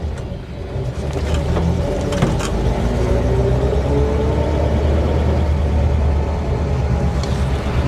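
A 1953 Pontiac Chieftain with power steering idles and rolls at low speed while being parked by a garage, a steady low engine rumble running throughout with a few faint clunks.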